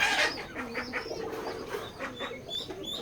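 Pigeons on a pigeon farm, repeated soft coos and bird calls close by over a background murmur of the flock.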